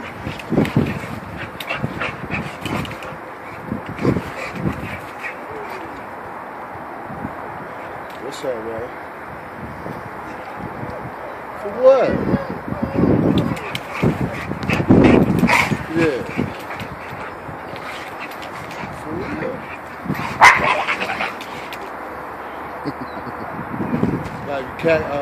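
Two dogs play-fighting in a backyard, with intermittent barks, yips and growly bursts over the whole stretch while people talk nearby.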